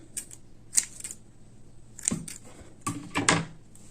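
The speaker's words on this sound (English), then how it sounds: "chain 1 and cut off the yarn" Crochet yarn snipped at the end of a vest row, a few quiet dry clicks and scissor snaps spread across the stretch, with no voice over them.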